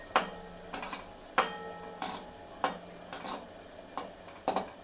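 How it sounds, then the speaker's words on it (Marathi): Gulab jamun fry slowly in a pan over a low flame, with eight evenly spaced stirring scrapes and soft sizzling between them, and no voices. "असे भाजून घ्यायचे. मंद आचेवर ते असे लालसर उठले पाहिजेत."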